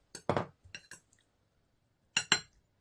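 A flat spatula stir-frying in a pot with perilla oil and salt, heard as a few short scraping clinks in two brief bursts separated by quiet.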